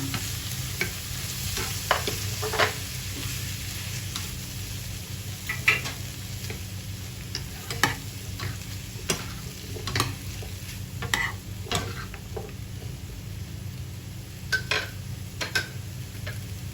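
Broccoli, carrot and shiitake mushrooms stir-fried in a pan with shrimp, a steady sizzle under repeated sharp scraping and clacking strokes of a utensil at an uneven rhythm.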